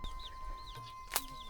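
Chickens cluck briefly and faintly at a simple rural homestead on a Jamuna river char in Bangladesh, a few short calls over a quiet background with a steady faint hum.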